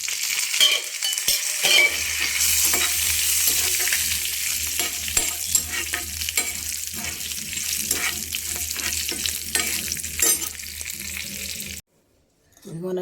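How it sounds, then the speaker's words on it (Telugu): Dried red chillies fry and get stirred in a pan, giving a steady crackling sizzle with scraping stirs, close and continuous for about twelve seconds before it suddenly cuts off. "ఇప్పుడు ఇందులోకి ఎండుమిర్చి వేసుకుందాం"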